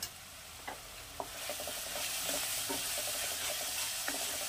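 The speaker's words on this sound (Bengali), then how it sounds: "এবার এটাকে আমি খুব ভালো করে একটু কষিয়ে নেব" Spice powders fry in a pan while being stirred, a soft steady sizzle with repeated scraping strokes of the spoon, close and fairly quiet, with no talking.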